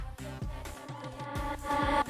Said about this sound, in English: I also created this reverb effect, by the way, on the acapella.